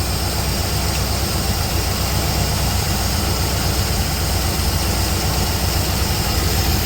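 A 1969 Chevelle Gold Dust barn find with a freshly rebuilt carburetor idles steadily close by, its low engine rumble even and unbroken while the idle is adjusted.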